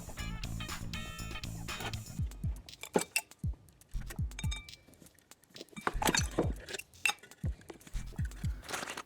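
A nut driver works nuts off a Brunswick hand dryer's motor assembly, with rapid metallic clicks, rattles and small clanks in irregular bursts, close by, alongside faint handling noise.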